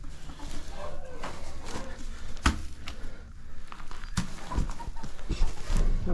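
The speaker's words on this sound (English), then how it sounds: "What are you doing, Rooster?" Chickens and a rooster on a rainy homestead, clucking and fowl calls scattered over a steady rain-like background noise, close and moderately loud.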